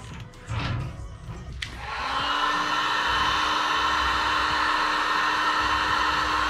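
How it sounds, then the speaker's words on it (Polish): Heat gun blowing hot air at close range over a restored heated steering wheel, a steady broad whoosh with a faint whine that starts after some rustling and then holds continuously to the end. "I słyszymy z daleka opalareczka. Zobacz, jak pięknie schnie."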